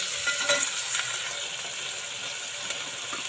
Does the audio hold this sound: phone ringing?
no